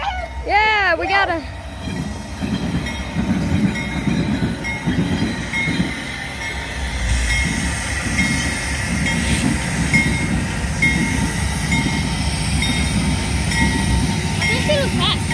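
A Norfolk Southern freight train rumbles past close by with a continuous heavy roll and rattle, a horn blast near the start, and people talking over it.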